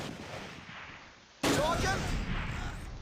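A mortar shell slams down in Close Combat: Last Stand Arnhem, a sudden loud blast cutting through quieter battle ambience partway in, followed by a lingering rumbling roar with faint whistling tones.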